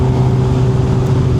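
A Suzuki GSX-R 750 motorcycle at near full throttle, a loud, steady engine drone with a strong low hum and a buzzing tone, heard close and unbroken for a brief moment.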